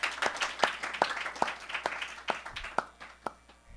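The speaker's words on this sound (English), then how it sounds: "everyone who performed today deserves another round of applause" Audience applause after performances at a tabla lecture-demonstration, a modest scattered round of hand claps from a small crowd, irregular and fairly faint.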